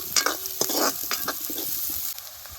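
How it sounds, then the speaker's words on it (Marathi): Chopped onion frying in oil for a village-style chana and moong dal tadka, a steady close sizzle broken by several scraping stirs of a spatula in the pan, with no talking. "कांदा लाल होईपर्यंत चांगला तळून घ्यायचा"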